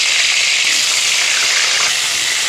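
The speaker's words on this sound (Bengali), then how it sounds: "তো এবার আলুটাকেও ভেজে নেব, এই একই তেলেই ভেজে নিচ্ছি।" Potatoes frying in oil for chicken biryani, giving a loud, steady sizzling hiss that continues unbroken and close up.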